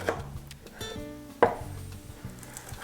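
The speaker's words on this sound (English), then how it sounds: "And we finally chop this, and be careful not to touch the chili." A knife chopping bird's eye chili on a board, with a handful of short, sharp cuts and one clearly louder strike, all over a soft, steady tonal background.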